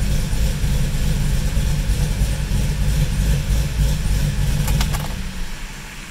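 A Chevrolet Camaro SS settling into a steady idle on a roller dyno: a loud, even low-pitched engine drone with a constant hum that eases slightly toward the end.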